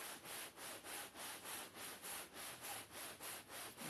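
Seat foam for a motorhome being cut slowly with a blade in a steady back-and-forth sawing rhythm, about three strokes per second, close and unaccompanied.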